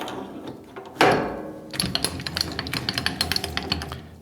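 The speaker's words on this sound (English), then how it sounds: "Grab a drill chuck here." A drill chuck is fitted onto a CNC mill: a sharp metallic knock, then a quick run of close, crisp ratcheting clicks and small mechanical taps.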